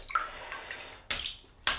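Water splashes and drips as a synthetic shaving brush is wetted for lathering with Muhle R41 soap, a few soft trickles followed by two sharp, close splashes.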